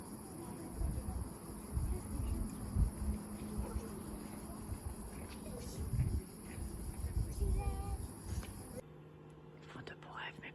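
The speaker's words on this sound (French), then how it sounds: "au bruit des cigales." Cicadas drone at sunset in Domme, Dordogne, a steady high buzzing chorus over low murmuring outdoor background and soft voices, cutting off abruptly near the end.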